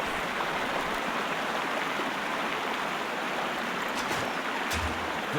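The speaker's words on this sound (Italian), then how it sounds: "fortissimo il rumore dell'acqua" Loud rushing water roars steadily in a video game, a dense continuous wash of noise that stays constant throughout without any voices.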